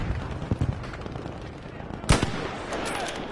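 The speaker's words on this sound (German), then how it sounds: "Da schießt doch schon wieder was auf mich." Battlefield 5 gunfire: bursts of machine-gun and rifle shots crackle in a busy mix, with one sharp louder shot standing out near the end, under scattered speech.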